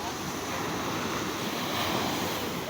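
Strong sea waves surging and washing on a beach, a continuous loud broadband roar with wind noise over the microphone.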